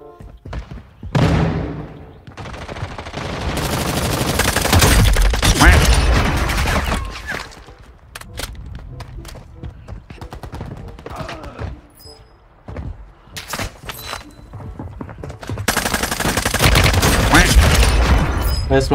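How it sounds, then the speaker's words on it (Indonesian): Rapid video-game gunfire in a 120-player battle royale match, bursts of shots and thuds coming in waves, loud and near, with brief quieter gaps between volleys. "Ada yang nembakin gue ya?"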